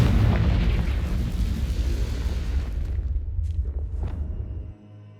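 A Confringo blasting spell in Hogwarts Legacy erupts in a loud, dense rumbling blast that fades out over a few seconds.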